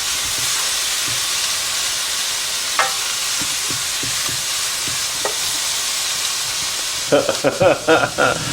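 Pork taco filling sizzles steadily in a hot pan, a bright hissing fry with occasional clicks, then a few clattering knocks toward the end, no voices.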